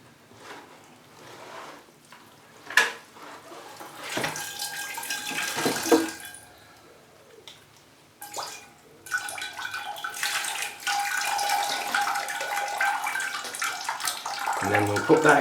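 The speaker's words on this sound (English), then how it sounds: "So let's pour some water through." Water poured through a mounted Dendrobium orchid splashes and trickles in uneven bursts, stopping and starting, with a steady stream near the end, under occasional quiet talk.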